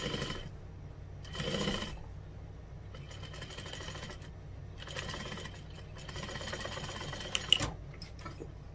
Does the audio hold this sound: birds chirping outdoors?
no